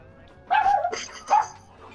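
A dog barks twice over an online game voice chat, a sharp bark followed by a shorter yelp a moment later, loud and close against a quiet background.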